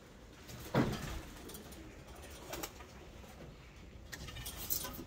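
Pigeons coo softly outdoors over a steady background hum, with occasional faint bumps and rustles.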